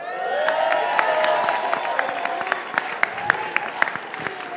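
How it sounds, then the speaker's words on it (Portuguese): Applause from a crowd at a public gathering with young people in Heliópolis, São Paulo, a dense burst of clapping with a few cheers and whoops that gradually thins into scattered claps. "Eu queria mais uma salva de palmas pro Chico Macena."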